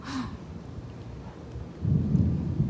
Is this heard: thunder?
yes